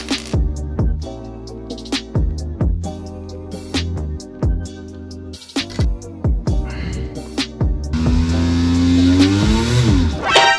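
A small 3D-printed USB fan motor runs off a bench power supply with a speed controller. It gives a close, tonal whine in repeated short start-stop bursts, then a longer run that rises in pitch near the end.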